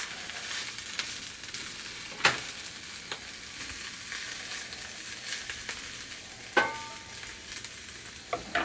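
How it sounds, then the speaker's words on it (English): Greens sautéing in olive oil in a pan, a steady close sizzle broken by a few sharp scrapes and clinks as they are stirred and moved around. "I'm just moving the greens around, making sure everything's getting a little bit of olive oil on it"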